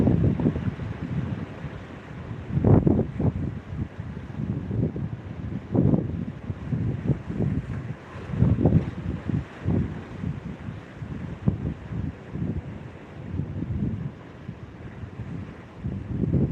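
Wind gusting over rough water around a small fishing boat, a steady low rumble and buffeting against the microphone with swelling surges and slapping, no voices.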